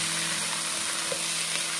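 Peanuts stir-frying in a wok with a splash of liquor, giving a loud, steady sizzle with faint scraping of the stirring, no talking.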